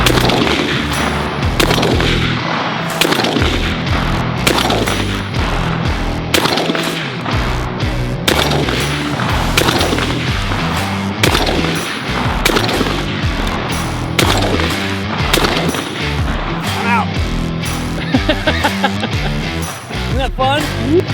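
Rapid, loud shotgun blasts from CZ 712 and 1012 shotguns fire repeatedly over about twenty seconds during trick shooting, dense and echoing, with scattered voices mixed underneath.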